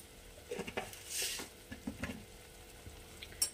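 Bengali-style paneer kalia masala being sautéed in a pan: quiet scraping and stirring with light sizzling, scattered utensil clicks against the pan, and a brief louder hiss in the middle.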